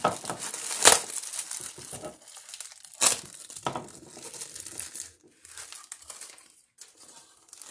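Bubble wrap and packing material crinkled and pulled away from a small Mamod MM2 live steam engine, close irregular crackling and rustling with a few sharper louder crunches, tapering to quieter fumbling, no talking.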